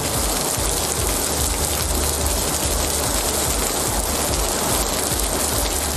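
Heavy summer rain driven by wind pours down around Arani in Tiruvannamalai district, Tamil Nadu. It makes a dense, loud, unbroken hiss and roar that holds steady throughout, with no voices.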